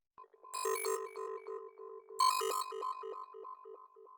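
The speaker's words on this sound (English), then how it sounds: "Our third preset is called Throat Filler, and it sounds something like this." Vital synthesizer preset called Throat Filler in a psytrance style: a bright, buzzy pulsing synth line in quick rhythmic stabs, with two brighter bursts of harsh overtones, played alone.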